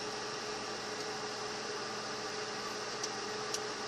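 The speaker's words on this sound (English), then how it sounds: "I wanted to microwave soap." A microwave oven runs steadily while heating a bar of soap, giving a continuous hum and fan-like whir with faint ticks near the end, close and alone with no voices.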